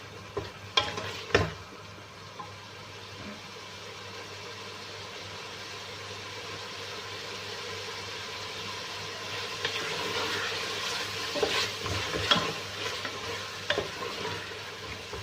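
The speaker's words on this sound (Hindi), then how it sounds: "आलू को मैं 5 मिनट तक भुनाई करूंगी।" Potatoes stir-roasting in a pan for an aloo gobi, a steady soft sizzle with scraping stirs and a few sharp clinks of the spoon against the pan, close and alone without talk.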